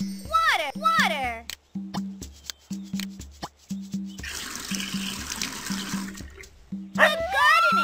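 Water pouring onto plants in a Dora gardening video game, a rushing splash effect lasting about two seconds, set between stretches of bouncy game music and cartoon voices speaking.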